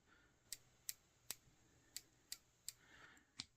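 Sharp, crisp clicks from the locking, resettable turret caps of a Firefield Rapidstrike 5-20x50 rifle scope, about eight evenly paced detents heard up close in a quiet room.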